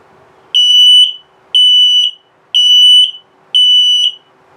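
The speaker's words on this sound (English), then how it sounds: "There's LP gas, carbon monoxide coming up." An RV's LP gas and carbon monoxide detector in a 2021 Flagstaff Shamrock 19 trailer sounds four loud, evenly spaced piercing beeps, each lasting about half a second, alone with no talk.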